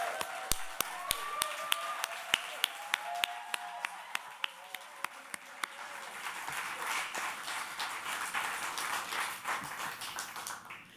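Audience claps for the poets at a poetry competition final, starting as sharp, evenly spaced single claps that build into denser, overlapping applause with faint voices underneath.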